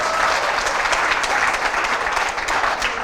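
A large audience claps for a consumer company at a business presentation, a dense continuous roar of applause, loud and close, with no talking over it.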